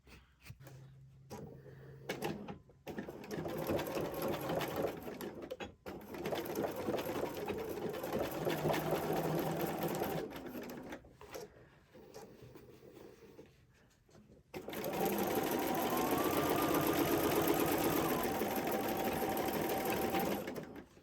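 Sewing machine stitching a crossbody bag, running in several sustained bursts with short pauses between, steady and close, the last run louder and longer.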